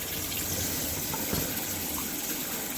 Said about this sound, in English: Just want to give them a good spray with some cold water, make sure they're clean